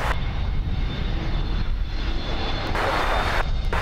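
A fixed-wing airplane at Miami International Airport produces a continuous engine roar, steady and fairly loud, with a brighter swell of hiss near the end.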